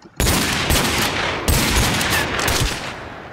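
Rapid, loud gunfire rattles in a modded Minecraft shootout minigame, dense continuous bursts with a few heavier shots, up close and with no one speaking over it.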